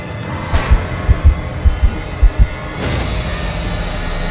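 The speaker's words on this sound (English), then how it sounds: "my heart pounding in my chest" A sound effect of a thumping heartbeat plays in an animated horror story, about eight close, deep, pulsing double beats in quick rhythm, then a steady rushing noise takes over.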